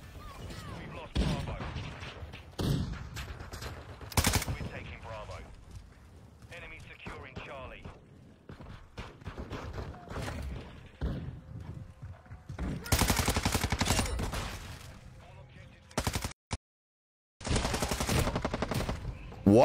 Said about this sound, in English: I was shooting this guy in the fucking feet and didn't fucking kill him